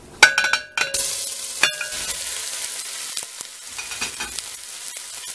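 Ground meat for picadillo hits hot oil in a pan and sizzles loudly at once, the close frying hiss holding steady with a few clinks and scrapes of a utensil, and no voices.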